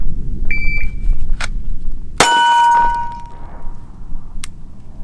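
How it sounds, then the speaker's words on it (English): Pro shot timer start beep at a 10-yard pistol drill with a SIG Sauer P365XL: a single sharp electronic tone cuts in mid-clip, preceded by a fainter short tone and followed by a clack, against quiet outdoor background. "and then we'll work with a pro timer"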